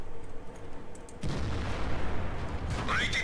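Shell impact on a tank in World of Tanks, a KV-1 battle: a sudden heavy boom cuts in partway through, followed by a rumbling, crackling aftermath with a brief whine near the end, fairly loud with no talk.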